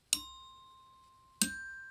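Glockenspiel struck twice, two bright metallic notes forming a perfect fifth, each ringing out and slowly fading, close and quiet in a still room.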